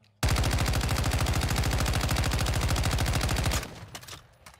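Rapid automatic gunfire from a weapon in Modern Warfare 2 / Warzone 2 during a recoil test, a steady, loud, evenly spaced stream of shots lasting over three seconds before cutting off abruptly into quiet room noise.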